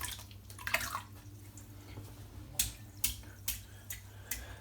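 A shaving brush is dipped and swished in water, giving faint splashes and a few sharp drips over a low background hum, close but quiet.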